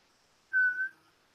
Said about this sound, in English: That's me, guys, whistling there, trying to get them to whistle back